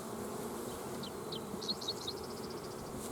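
Honey bees buzz near a hive by a dividing board, a few passing close in short whining bursts over a low, constant background hum.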